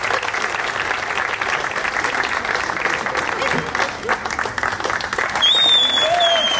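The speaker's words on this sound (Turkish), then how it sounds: "bir alkış daha istiyorum sizden. Evet, daha büyük, daha coşkulu." Sustained loud applause from a large audience at a boxing event in Antalya, a thick wash of clapping that swells toward the end, with whistles cutting through over the top.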